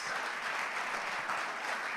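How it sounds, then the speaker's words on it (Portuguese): Steady, dense applause from a church congregation at a Sunday celebration service, a uniform wash of clapping that holds evenly for a couple of seconds. "Mais um aplauso a Jesus."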